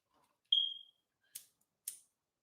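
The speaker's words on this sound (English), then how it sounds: "Shout out to my smoke detector too." A smoke detector gives a single short high-pitched chirp in a quiet room, followed by two faint clicks.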